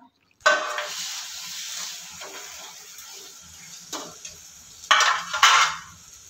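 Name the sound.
French toast bread frying in a buttered pan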